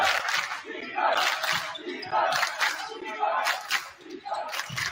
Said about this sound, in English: Cresskill is packed out and screaming defense like there's no tomorrow